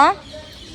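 A single short bird call, chicken-like and clucking, rings out loud and close at the very start at a house in Basavanagudi, then fades into a quiet background hum.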